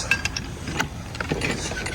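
Rapid metallic ratcheting clicks from a hand-wound canal lock gate paddle gear, several clinks in quick succession, close by.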